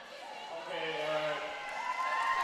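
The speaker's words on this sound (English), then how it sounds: "Really big round of applause here for Halifax" Crowd noise at a Wifted Up recognized ultimate tournament, a broad sustained wash of cheering and applause for the Halifax team. It builds slightly and holds steady, with a voice faintly mixed in.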